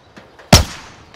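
A single loud gunshot in a video game, sharp with a decaying tail, then a second burst starting at the very end, with faint softer shots earlier.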